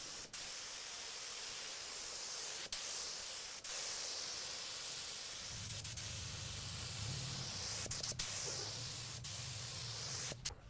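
Steady broadband hiss of a spray gun running continuously as it sprays finish on a kitchen drawer cabinet carcass, with a few sharp clicks and a low hum joining partway through.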